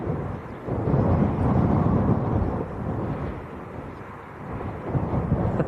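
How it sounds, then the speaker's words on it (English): Heavy rain at Leeds Bradford Airport pours down in a steady, dense roar with a deep rumbling undertone, continuous throughout. "Heavy rain."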